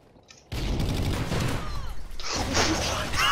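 Call of Duty Ghosts gameplay erupts into loud dense missile explosions and rapid gunfire after a brief quiet start, a sustained chaotic barrage with whistling streaks and booming blasts.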